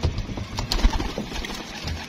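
Golden pigeons cooing in a loft, soft low murmuring coos over a busy rustling background, with no voices.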